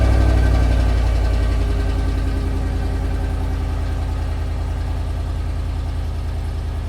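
A 2021 Chevrolet Silverado Custom pickup engine idles steadily up close, a low even rumble with a faint rhythmic pulse that eases slightly in loudness, with no talking.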